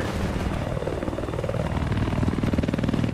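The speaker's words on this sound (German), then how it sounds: "Anscheinend ist nördlich von dir ein feindlicher Helikopter." A helicopter's rotor in the video game Battlefield 4 thumps loudly and steadily close by, a rapid rhythmic chop over a deep engine roar.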